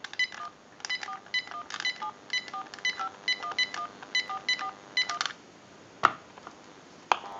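A rapid series of touch-tone dialing beeps on a GE cordless telephone, short paired tones in quick irregular bursts, followed by a couple of sharp clicks on the line.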